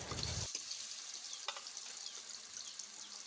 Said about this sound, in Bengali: তাই এখন কম পরিমাণে মাছগুলো ভেজে নেবেন।